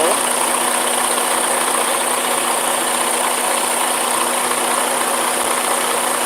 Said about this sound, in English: I guess this is the first time the truck was turned on since they did my B service.